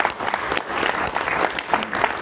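An audience at a reunion's final evening program claps in loud, steady applause that continues without a break.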